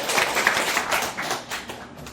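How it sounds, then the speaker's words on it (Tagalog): A church congregation claps together in a dense, steady wash of applause that holds at an even level for the full two seconds. "Pumalakpak ang naniniwala."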